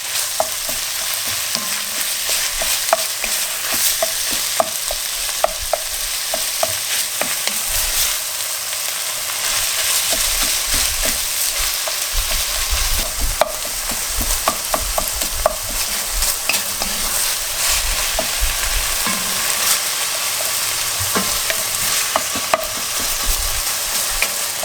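Meat and onions for Albanian Shkodra stew sizzle steadily in a pot while being stirred, with frequent spoon scrapes and clicks over a constant frying hiss, close and fairly loud.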